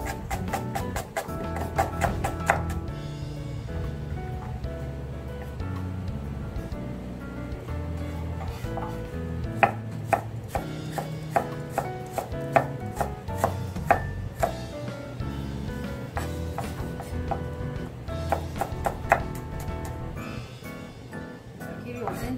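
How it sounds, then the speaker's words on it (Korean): A knife chops rapidly and finely through onion on a cutting board, cutting it into thin strips. The sharp, rhythmic taps run steadily in close succession and are fairly quiet, with a person talking at times. "양파는 길이 5cm로 자릅니다. 그리고 아주 곱게 채 썰어줍니다."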